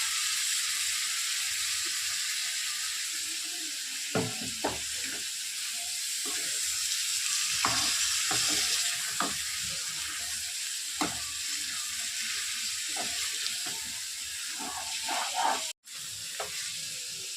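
Chicken pieces frying in a spiced tempering, a loud continuous sizzle and hiss with repeated stirring scrapes and taps near the pan.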